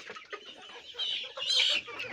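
Fayoumi chickens cluck softly at a market, with a few short calls and one louder squawk rising near the end.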